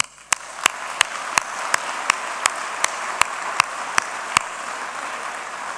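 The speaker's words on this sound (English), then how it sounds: "please join me in a big round of applause for the ceremony staff and the volunteer team" Slow, evenly spaced claps ring out about once every third of a second, sharp and fairly close, with no voices over them, as audience applause at a university conferring ceremony.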